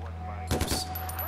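Gunfire in Far Cry 4 as a cage is shot at: a short cluster of three or four quick, punchy shots fires mid-clip over a steady low game hum.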